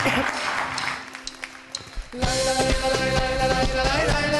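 Studio audience on a Turkish daytime TV show breaks into loud, sustained applause after a brief stretch of quieter room noise and scattered sounds, filling the space up close.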